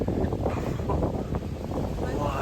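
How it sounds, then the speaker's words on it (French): Gusty wind buffeting a microphone outdoors on Mauritius, low rumbling bursts that rise and fall in quick uneven pulses, with a faint voice mixed in. "Oh, il y a du vent, mais..."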